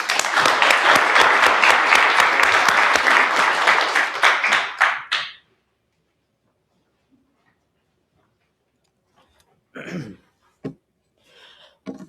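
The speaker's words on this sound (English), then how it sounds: "So we're going to give a round of applause to Nathan." An audience at a treatment court graduation ceremony applauds loudly and steadily for about five seconds, then the clapping stops abruptly into near silence with a few faint scattered noises.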